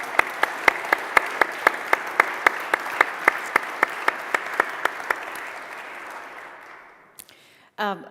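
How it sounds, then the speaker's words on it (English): A room full of people applauds steadily, with a rhythmic clap standing out over the crowd, then the clapping fades and a voice starts speaking. "I really do invite you to give a round of applause for them"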